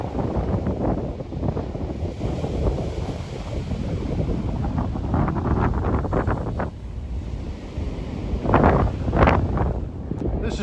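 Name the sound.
strong wind blowing at Fort Pond Bay, Montauk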